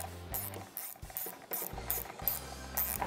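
A ratcheting screwdriver clicks repeatedly as screws are backed out of the inverter board on a fuel injection control module. The close, dry clicks come in bursts with brief pauses between turns, and no one speaks.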